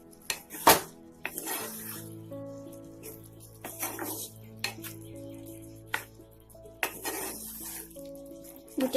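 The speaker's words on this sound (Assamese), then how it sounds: "গোটেইখিনি মই মিক্স কৰি দিছোঁ এতিয়া" A spoon scrapes and clinks against a kadai frying pan as boiled raw jackfruit and potato are mixed into masala, giving a few sharp metallic knocks amid quieter stirring and a low steady hum.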